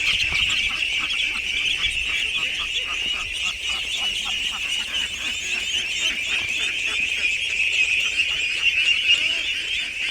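Dense, steady chorus of many ducks calling together inside a duck house on a farm near Boshikura Bazar, Itna, Kishoreganj, with continuous overlapping quacks close by and no pauses.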